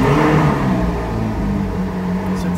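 A Ferrari sports car engine fires up and revs loudly up close, a dense mechanical roar that dips slightly and holds steady, with no voices over it.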